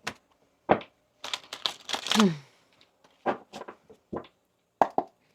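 Tarot cards are shuffled in a few bursts of papery riffling and soft slaps, separated by short pauses. The sound is close and dry, with no talk over it.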